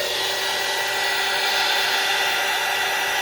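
A heat dryer blows steadily on wet medium on an art journal page, a loud continuous whirring hiss with a faint tonal whine, unbroken and close for the whole stretch with no talking.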